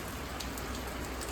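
Steady rain falls outdoors, a continuous dense hiss of drops with no other sounds heard.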